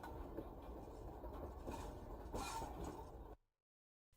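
A model railroad train runs through a layout yard, a soft rumbling with light rhythmic clicks and a brief louder clatter, ending abruptly in silence.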